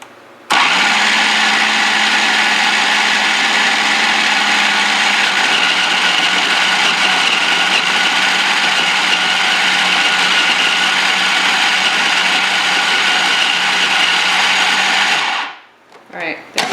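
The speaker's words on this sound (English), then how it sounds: "So we put all the ingredients into the food processor" Food processor blending raw chili ingredients, a steady loud close whirring motor that runs continuously for about fifteen seconds before spinning down and stopping.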